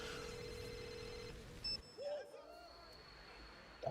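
A telephone rings in a game trailer with a steady electronic tone for over a second. It stops and is followed by brief sounds and a faint tone under a quiet background.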